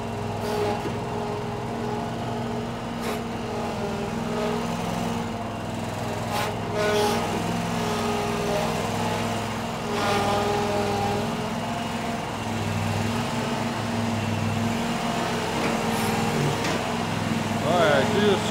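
A Toro Z587L Z-Master commercial zero-turn mower with a 72-inch deck runs its engine at a steady idle. The low mechanical drone is continuous and close, with small surges in loudness and a few faint clanks.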